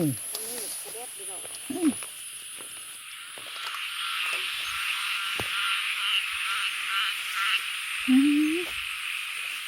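Frogs croaking outdoors at night during a nighttime outing in Thailand: a few short, rasping calls near the start and again near the end, over a steady high buzz of night insects.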